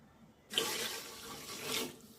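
Water runs steadily into a rice pot for about a second and a half, a broad splashing rush that swells slightly before cutting off.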